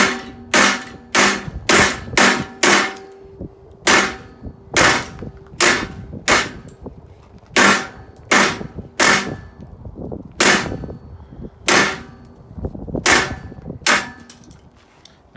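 A hot-oil heat-treated knife blade chops repeatedly into a piece of wood, sharp loud cracking strikes arriving in quick irregular bursts of two to four, with short pauses between groups.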